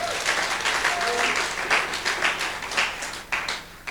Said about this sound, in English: So a round of applause for Chibo, please.